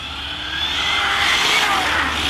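An ARRMA Infraction 6S BLX 1/7 scale RC car accelerates toward full speed, its electric drive giving a loud, sustained high whine that rises in pitch over a couple of seconds.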